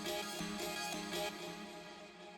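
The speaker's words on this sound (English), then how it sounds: "I took some bounces of the granulated sample and just put it in eighth note chunks at different octaves" Crystal-like chimes built from granulated sample chunks in Bitwig play at different octaves, bright shimmering tones repeating in quick eighth-note steps, layered and fairly quiet.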